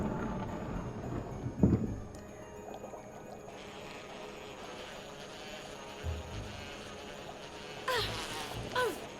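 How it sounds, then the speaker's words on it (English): A giant bee buzzes faintly and intermittently in the Resident Evil HD video game, its drone rising in a few brief swells over a quiet ambient game backdrop. "Turns out that bee is alive."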